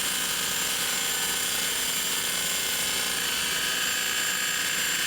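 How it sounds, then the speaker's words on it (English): A variable speed grinder with a 600 grit hook and loop disc pad, spinning around 2200 RPM, rotary sands the outer lip of a semi truck wheel on the trailer. It makes a loud, steady high-pitched whine with grinding hiss that continues without a break. "I'm gonna use 600 grit on our hook and loop disc pad for our variable speed grinder."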